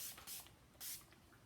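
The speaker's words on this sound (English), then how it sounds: "I'm going to finish it off with some setting spray." Two quick, faint hissing sprays from a makeup setting spray pump bottle, spaced about half a second apart, close up in a quiet room.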